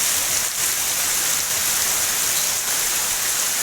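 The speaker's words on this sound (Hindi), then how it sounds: "खलेला में तकड़ी बारिश हो रही है और ओले पड़ रहे हैं" Heavy rain and hail pour down during a flood in Thalela village, a dense, continuous roar of water hitting surfaces close by with no voices.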